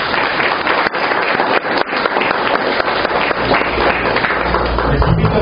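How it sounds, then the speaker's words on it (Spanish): A church congregation breaks into loud, sustained welcoming applause, dense clapping filling the space without a break and staying strong to the end. "Démosle ese fuerte aplauso de bienvenida."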